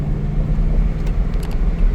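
A second-generation Toyota Tundra V8 pickup cruises on a highway at night with the windows down, its engine a steady, deep rumble blended with road and wind noise throughout.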